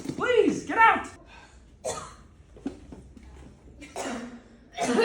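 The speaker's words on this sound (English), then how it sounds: "Why are you still coughing?" A student coughs repeatedly in a classroom, several harsh bursts close by, with a teacher's voice speaking between the coughs.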